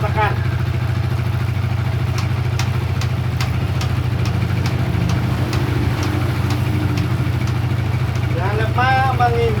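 An old motorcycle that has sat unused for a long time runs at a steady idle-like drone while being put into second gear, with faint ticking and clicking over the constant engine hum.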